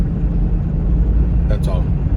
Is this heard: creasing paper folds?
no